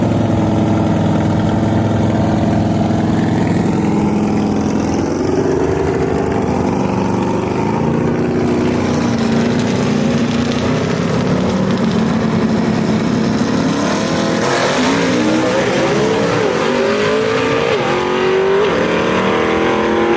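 Superstock drag race cars at Shadyside Dragway in a Southeast Gassers event, engines idling and revving loudly and continuously nearby, with rough rumbling surges as the cars stage for the first pair of eliminations.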